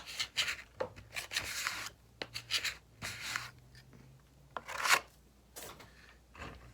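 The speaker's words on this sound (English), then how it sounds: "Fill the cracks with the wax." Wax is rubbed into the cracks of a ski base, making bursts of close, scratchy rubbing strokes in an irregular rhythm with short quiet gaps between them.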